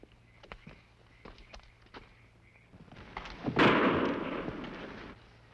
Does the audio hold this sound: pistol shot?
yes